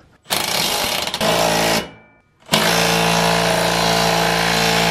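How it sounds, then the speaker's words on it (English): A Makita impact driver on full impact mode with a 19 mm socket hammers a wheel stud into place on a Subaru WRX hub, two loud close bursts of rapid rattling separated by a brief pause. "I'm going to be using my cool little Makita impact driver."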